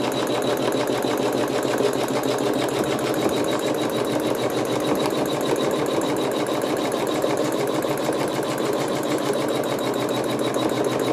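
A quilting sewing machine runs continuously at a slow, steady pace, its needle producing an even, closely spaced mechanical thumping with a whirring motor underneath, no talking.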